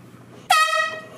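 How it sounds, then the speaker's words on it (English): A single loud air horn blast erupts suddenly in a quiet library and holds as a steady, strident blare with no voices over it. "I have an air horn."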